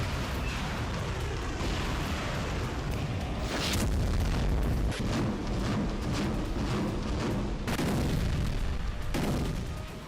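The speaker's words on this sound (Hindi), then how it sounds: "रूसी मिसाइलों से धधकने लगा" Rumbling booms and blasts from Russian missile strikes on Ukraine's Khmelnytskyi region, a continuous loud low roar with sharper bursts near four and eight seconds, no voices.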